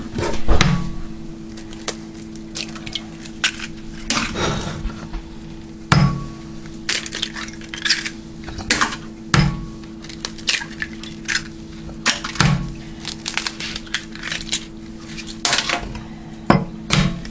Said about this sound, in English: we're going to crack our eggs into our bowl